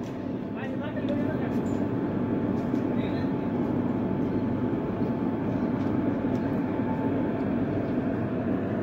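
The Nagpur Kolhapur Express draws into platform 1 at Barshi station with a continuous heavy rumble and a steady tone, and a voice talks over the din.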